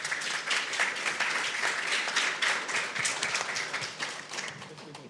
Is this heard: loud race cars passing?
no